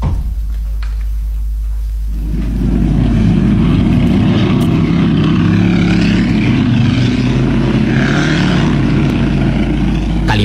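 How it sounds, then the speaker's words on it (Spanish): A radio-drama sound effect of a car engine accelerating: a low steady rumble swells after about two seconds into a loud, sustained roar that holds to the end, with no talking. "Calimán oprimió el acelerador hasta el fondo"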